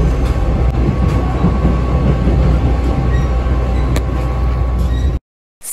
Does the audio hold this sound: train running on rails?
yes